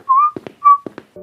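A man whistles a short two-note tune as he walks into a house late at night, a clear, close, bright whistle repeated twice, with footsteps or knocks between the phrases.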